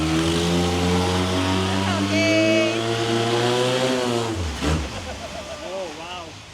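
A loud boat motor drones steadily at Damnoen Saduak floating market, its engine note rising and falling as it revs, close by, with a brief voice heard over it.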